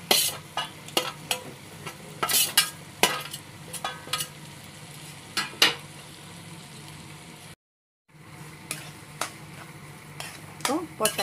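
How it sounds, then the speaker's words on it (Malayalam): Boiled potatoes are mashed and mixed in a pan for pav bhaji: repeated close tapping and scraping of a utensil over a soft sizzle, irregular in rhythm, with a brief silent break partway through. "അപ്പോൾ പൊട്ടാറ്റോ മാഷ് ചെയ്ത് നന്നായിട്ട് ഇതുമായിട്ട് മിക്സ് ചെയ്യണം"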